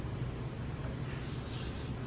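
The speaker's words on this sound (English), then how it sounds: "when we use this cooking spray to spray over the garbage can so that we're not spraying on the table or on the floor" Non-stick cooking spray misted from a can over a garbage can in a kitchen, a steady hiss that swells brighter in the second half, fairly close, with no talking.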